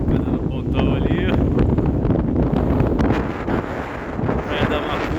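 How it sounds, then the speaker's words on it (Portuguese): Strong wind buffets the microphone with a constant loud roar on an exposed rocky point at Rio de Janeiro's seashore during a cold front, with rough sea; someone speaks over it. "Tá ventando muito aqui no pontal"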